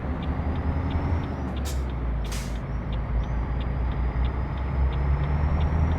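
Air brakes on a truck in a trucking video game give two short, sharp hissing bursts when the rig comes to a stop, heard over a steady low engine rumble.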